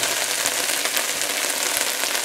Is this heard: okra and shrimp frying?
yes